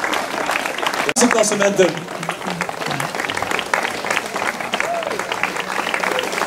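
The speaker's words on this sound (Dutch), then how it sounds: "Nogmaals uw applaus voor de winnaars van het ploegenklassement." Steady crowd applause fills a cycling race award ceremony while someone speaks over it on a public address.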